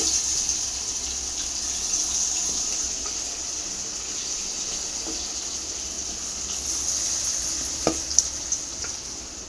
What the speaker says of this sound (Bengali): চিলি চিকেনের পকোড়া তো ভাজতে হয় ভেজে নিচ্ছি মাংসগুলো